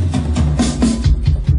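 Short MIDI arranger drum sounds play in a quick pattern, kick-like thumps alternating with brighter snare and hat taps, close and dry.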